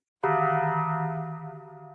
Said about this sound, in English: a teen of today could hear the Bong while purchasing on the Taco Bell app